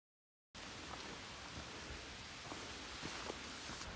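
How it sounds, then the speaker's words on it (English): Rain setting in earnest on a trail, a steady hiss of falling drops beginning abruptly after a short silence, with occasional louder nearby drop impacts. "The rain has set in earnest."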